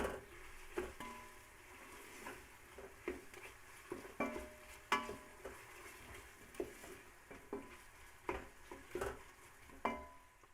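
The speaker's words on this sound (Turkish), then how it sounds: "Domates salçamızla biber salçamızı. yine karıştıralım." A spoon stirs tomato and pepper paste frying in a pot for meat and bean stew, making soft repeated scrapes and taps against the metal over a faint sizzle. It is quiet and close, with no talk.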